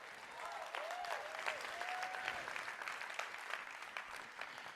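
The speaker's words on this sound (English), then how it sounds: "Now you're clapping" A convention hall audience breaks into sustained applause, many hands clapping densely and evenly at a moderate distance, with a few cheers rising above the patter and no talk over it.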